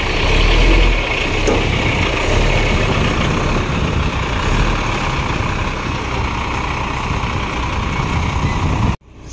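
A ready-mix concrete truck rumbles on a village construction site during a slab pour, its heavy diesel engine droning steadily up close, with a brief hiss before it cuts off abruptly at the end.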